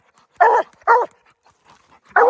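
Hunting dogs barking at a treed raccoon at night, three sharp, loud barks spaced apart with short quiet gaps and faint distant yips between them.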